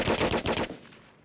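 Video game gunfire in the multiplayer shooter Last Man Standing: a short, loud rapid burst of automatic shots, about five quick cracks in half a second, then a fading tail.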